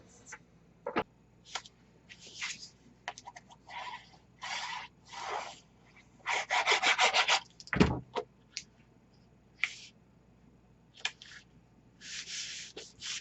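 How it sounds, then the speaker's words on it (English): Paper being trimmed for a mini album page, with short scattered bursts of close scraping and cutting strokes, a soft thump, and quiet gaps between them. "I'm going to trim it down a little."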